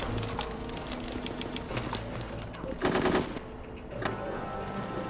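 Gunfire in the squad-based war video game Full Spectrum Warrior, bursts of rapid automatic shots layered over a busy in-game soundscape, with a louder, denser burst near the middle.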